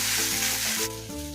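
Salt stirred into a cooking vegetable dish gives a loud, close sizzle with a brief stirring scrape, the hiss dropping noticeably partway through.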